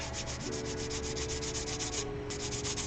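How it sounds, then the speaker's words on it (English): Sanding sponges rub steadily back and forth over a Gundam plastic model part in a quick, even scrubbing rhythm, close and continuous, with a brief pause before the strokes resume. "I'm going to go over with my sanding sponges here."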